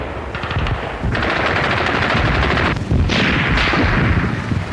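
Sustained machine-gun bursts and rifle fire from infantry and assault guns in winter forest fighting on the Eastern Front, loud dense rattling volleys with brief gaps, no speech.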